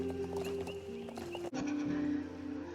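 A horse neighs in the video game Star Stable over a steady game-style ambient hum, with a soft clip-clop of hooves; the background shifts abruptly halfway through.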